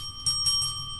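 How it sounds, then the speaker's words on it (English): A small hand bell on a live-stream desk rings twice in quick succession, short bright dings with a lingering steady tone, heard alone at moderate level. "Dang, I ain't used that bell."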